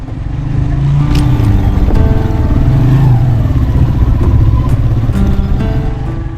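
A motorcycle engine hums loudly and steadily close by, shifting pitch slightly as the bike rides through very narrow old town lanes in Kalabagh, Pakistan.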